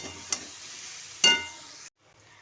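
Grated beetroot frying dry in a pan with a soft background sizzle, two quick scraping stirs that flare briefly louder, then the sound cuts off abruptly.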